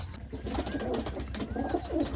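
A domestic pigeon coos softly in two low, rounded phrases, set against a faint steady hum and some background clatter, with no speech.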